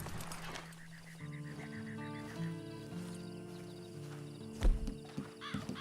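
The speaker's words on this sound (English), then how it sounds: "Then you better get on this horse." A horse makes hoof clip-clops and a whinny against a low, steady background with tonal hums, and a louder snort or neigh comes near the end.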